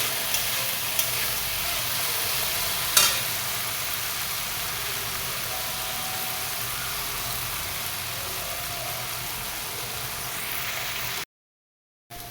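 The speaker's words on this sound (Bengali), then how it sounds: "একটু আলু ভাজার সময় নুনটা দিয়ে দিলাম, যাতে আলুটাও ভাজা হয়ে যাবে" Potatoes frying with salt in a pan give a steady, close sizzle that runs evenly for about eleven seconds, with one brief clink near the start before the sound cuts off.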